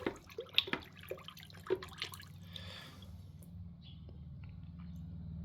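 Rock pieces are lifted out of a bucket after a baking soda soak and rinsed under water, giving scattered close drips and splashes over a steady low running-water hum.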